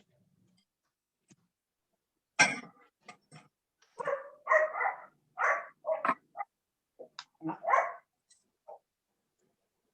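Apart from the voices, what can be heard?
small dog barking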